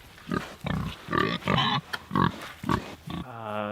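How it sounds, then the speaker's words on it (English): Pigs about 200 pounds each, raised for meat on a homestead, grunting close up in a run of loud, rhythmic bursts, followed by a brief higher squeal at the end. "I got those 2 little pigs"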